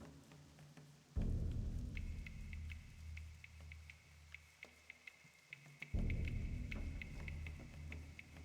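Steady rain patters in World of Warcraft, a constant hiss with heavy low rumbling surges, like thunder rolls, that kick in twice, plus scattered sharp drip-like ticks over the wash.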